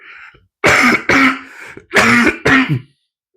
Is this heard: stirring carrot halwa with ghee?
no